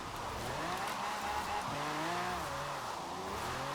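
A mid-engine rear-wheel-drive Lamborghini drifts in the racing game Forza Horizon 4, its engine revving loudly and continuously over sustained tire squeal and skidding.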